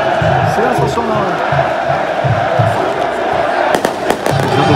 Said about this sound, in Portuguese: olha a festa aqui da torcida do Vasco